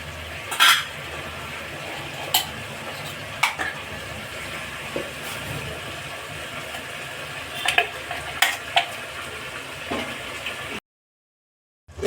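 Ground mint paste frying in a pan for pudina rice gives a steady, close sizzle, with a few sharp utensil scrapes and clinks of stirring over about eleven seconds before it cuts to silence.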